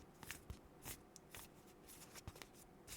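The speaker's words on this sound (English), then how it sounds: "Let me shuffle." Tarot cards being shuffled, with faint, quick riffling and soft slaps of the deck repeating over a few seconds.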